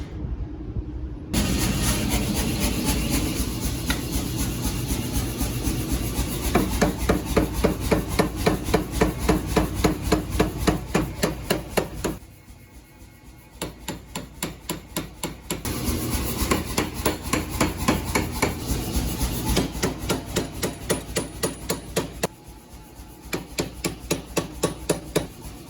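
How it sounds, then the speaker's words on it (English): A power hammer forges 1¼ inch round steel bar, pounding out rapid, evenly spaced heavy blows in long runs broken by two brief pauses, loud and close. "I'm going to take some 1¼ inch round bar, and I'm going to forge it out on the power hammer"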